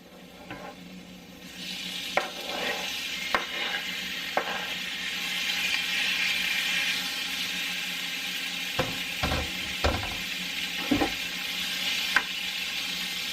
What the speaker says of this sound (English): It's sizzling a little bit.